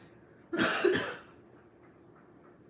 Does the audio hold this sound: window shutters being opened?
no